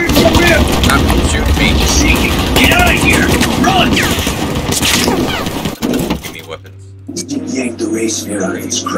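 Gunfire in the video game Battlefield 4, a dense continuous battle din of rapid shots and crackling bursts filling most of the clip, under constant player voice chat, dropping to a quieter hum near the end.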